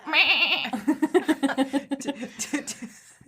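A person mimics a goat with a long wavering bleat followed by a rapid series of pulsing bleats, close and fairly loud, breaking into laughter at the end.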